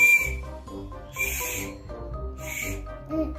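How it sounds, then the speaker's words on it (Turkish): A toy whistle is blown in several bright, shrill bursts with an owl-like hooting tone, each short toot standing out clearly over low background noise. "Düdüğünü de öttür."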